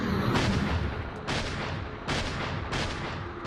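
Video game gunfire, heavy booming shots repeating at intervals of about a second, loud and close with rumbling tails, and no voices.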